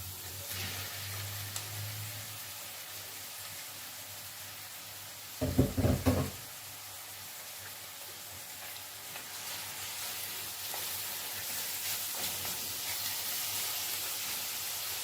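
Meat frying with fresh garlic and ginger for a sugar bean bredie makes a soft, continuous sizzle, interrupted once by a brief louder clatter of stirring.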